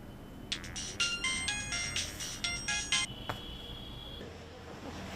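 A mobile phone ringtone plays a bright electronic melody for about three seconds, then a single tone sounds before it stops; fairly quiet, no talking.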